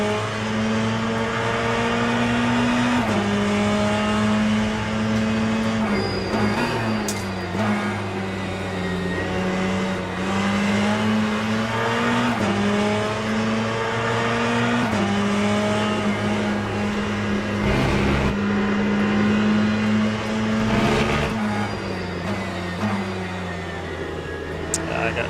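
Ferrari GT race car engine in the Le Mans Ultimate racing game, a steady loud droning whine holding pitch with brief dips at gear changes across the whole stretch, with a voice talking over it now and then.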